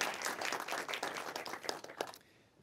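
A small academic competition audience claps steadily in a dense, even patter that thins and fades out near the end, heard from within the room.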